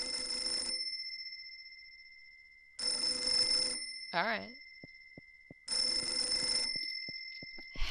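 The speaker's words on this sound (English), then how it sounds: "Why does the phone ring?" An old black telephone rings in the Mermaid Swamp game, three long shrill bell bursts separated by pauses, with a brief voice speaking between rings.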